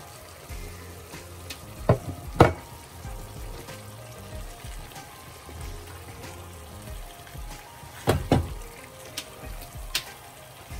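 Ground meat and tomato fry in a pan for chiles en nogada, a steady low sizzle with occasional louder pops and spatters, heard alone without talk.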